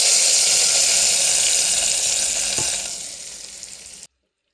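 A hot fried tempering is poured into cooked cucumber dal, giving a loud, close burst of sizzling that gradually settles and fades before cutting off abruptly.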